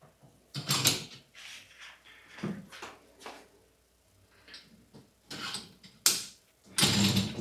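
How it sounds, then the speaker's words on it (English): Plastic clips are pushed back onto the spray blades of a Samsung DMS300TRS dishwasher, producing a series of short clicks, snaps and scraping rattles in irregular bursts, close by and moderately quiet, with no talk. "We can just put our clips back."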